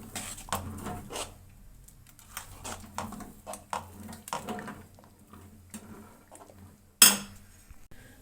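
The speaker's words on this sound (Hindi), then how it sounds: "अब इनको हम चलाएंगे लगातार, वरना सेवइयों की गुठलियाँ पड़ जाएंगी।" A utensil scrapes and clinks against a pot as sevaiyan vermicelli are stirred with sugar, a steady series of nearby taps and scrapes with one sharper clank near the end.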